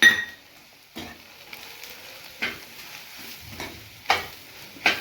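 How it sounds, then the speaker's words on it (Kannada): Fried eggplant being stirred in a pan with MTR vangi bath masala, a soft sizzle running underneath as a spoon scrapes and clanks through the mix every second or so, close and fairly loud, with no voices. "ಈಗ ನಾನು MTR ವಾಂಗಿ ಮಸಾಲಾನ ಹಾಕ್ಕೊತಾ ಇದ್ದೀನಿ."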